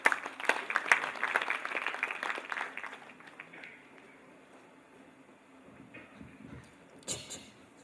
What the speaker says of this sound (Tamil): எங்கே உங்கள் அன்பான கரகோஷங்கள்?